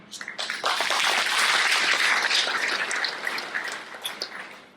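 An audience at a spiritual class in Gondia claps together, a dense burst of applause swelling quickly, holding loud for a few seconds, then thinning into scattered claps.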